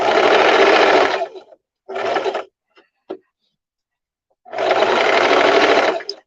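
Sewing machine stitching around the curve of a skirt pocket: two long close bursts of whirring motor with a short burst and faint clicks between them during brief pauses.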